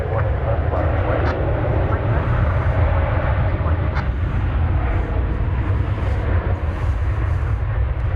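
An American Airlines jet departs DFW airport bound for Los Cabos, its engines a loud, steady roar with a heavy low rumble that holds unchanged throughout.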